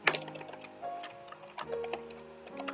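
Keys on a computer keyboard clatter in quick irregular bursts while code is typed, close and fairly quiet with short pauses between strokes.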